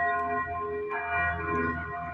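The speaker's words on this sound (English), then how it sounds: "You can hear the bells ringing at 10:44, 10:45." Church bells at Our Lady of the Holy Rosary Church in Sun Valley ring steadily to announce the new Pope Leo XIV, a sustained, resonant peal that carries on without pause.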